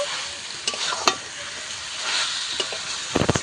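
Chicken skin coated in spices and salt sizzles steadily in hot oil in a pan, with a few sharp scrapes and clatters from stirring near the end.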